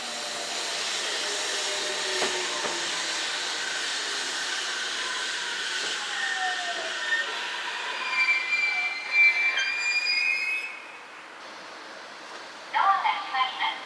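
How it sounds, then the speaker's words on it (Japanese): An inbound train pulls into a station platform in a rural Japanese hot-spring town, a rising rumble of wheels with squealing brakes as it slows, while a platform announcement plays over it. "まもなく上り列車が参ります。"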